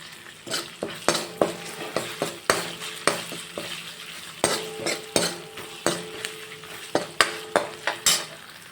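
Ginger, garlic and chili paste fries in a pan over cooked onions, a steady sizzle broken by repeated sharp scrapes and clinks of a spoon stirring against the metal, close and without talk.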